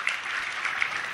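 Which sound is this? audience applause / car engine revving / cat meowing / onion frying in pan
audience applause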